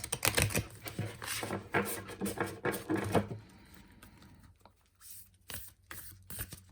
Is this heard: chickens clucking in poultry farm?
no